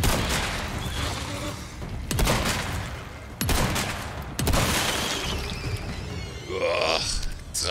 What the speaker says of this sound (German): drei Schuss mit der Schrotflinte